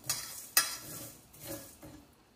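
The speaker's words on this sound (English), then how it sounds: "we're toasting our spices here" Whole spices for homemade pastrami toasting in a dry pan: a few sharp scrapes and stirs of a utensil against the metal, with soft rustling between them, close and fairly quiet.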